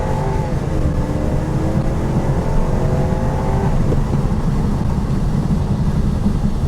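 A replica Mercedes S63 AMG engine revs and accelerates steadily to 60 mph, its pitch climbing over several seconds before settling into a constant loud drone with heavy road rumble.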